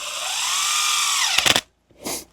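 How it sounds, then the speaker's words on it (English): A power drill bores into oak with a sustained whine that bogs slightly, then a few short bursts and a final brief spin, loud and close for a woodworking porch fence build. "I could drill this without splitting it"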